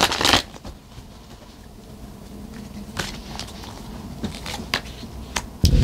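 Tarot cards shuffled and pulled at the close of an obsidian mirror gazing session, a crisp riffling burst at the start, then scattered soft slides and flicks of cards, ending with another sharp snap.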